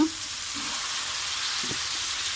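Pork stir-fried in a pan with oyster sauce and soy sauce, a continuous loud sizzle with occasional scraping stirs, close and steady throughout.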